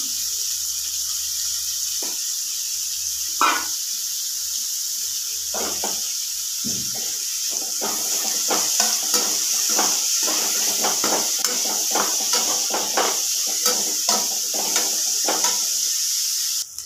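Onions fry in hot leftover oil with a constant high sizzling hiss, dotted with scattered crackles and pops that grow busier partway through.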